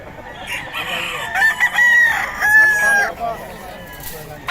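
A stag chicken being offered for sale crows once, loud and close, a drawn-out cock-a-doodle-doo with clucking and faint background chatter around it.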